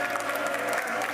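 An audience at a mental health revolution event cheers and applauds: a brief burst of dense clapping mixed with crowd noise, loud and continuous throughout.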